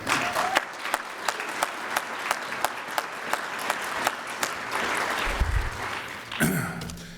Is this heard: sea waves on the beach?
no